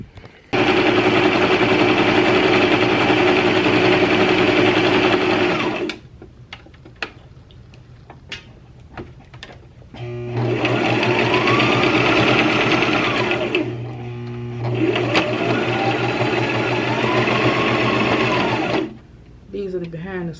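A sewing machine stitches a mesh T-shirt in loud sustained bursts, one long run followed by two more after a pause, with clicks and handling noises between.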